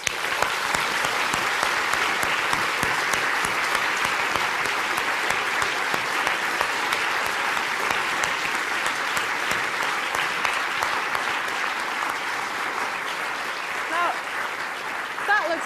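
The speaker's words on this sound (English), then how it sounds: "I think we deserve to give the technical team that made that happen a huge round of applause" A lecture-theatre audience at the Royal Institution Christmas Lectures gives long, steady applause to a technical team, a dense wash of many hands that holds evenly and tapers slightly near the end.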